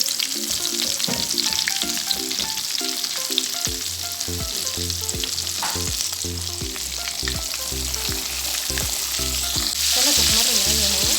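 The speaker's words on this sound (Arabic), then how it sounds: "السمك احمر معايا اهو" Flour-dusted tilapia fillets fry in hot oil with lemon peel, giving a loud, continuous close-up sizzle and crackle with spitting pops throughout and no talking.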